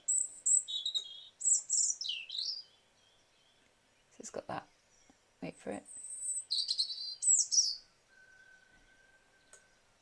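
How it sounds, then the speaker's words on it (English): A recorded robin sings high, thin, twittering phrases separated by pauses, playing at moderate volume, with a person speaking briefly in the middle between the phrases. "The next one I'm going to play is the robin."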